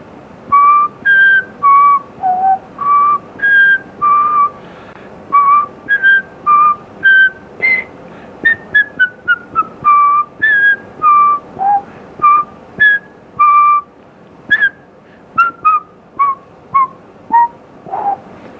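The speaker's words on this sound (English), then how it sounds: "you probably didn't need the whole Jeopardy song, but I just sort of got into the whistling" A person whistles the Jeopardy theme tune loudly and clearly, a long run of crisp, rhythmic phrases of short notes with brief pauses between them, and no talking.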